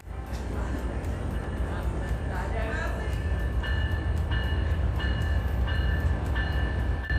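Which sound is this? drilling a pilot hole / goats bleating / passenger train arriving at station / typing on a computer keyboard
passenger train arriving at station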